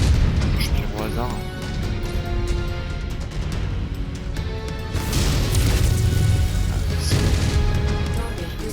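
Weapon fire and explosions in the video game MechWarrior 5 Mercenaries: repeated heavy booms and crashing impacts roll on continuously, with voices talking over the battle.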